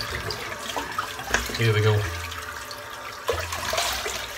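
Water drains out of a bathroom sink and cold tap water runs back in to refill it, splashing and gurgling close by for a few seconds while someone speaks briefly.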